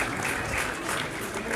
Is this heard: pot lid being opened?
no